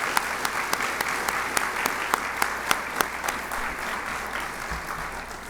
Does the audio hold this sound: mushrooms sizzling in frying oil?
no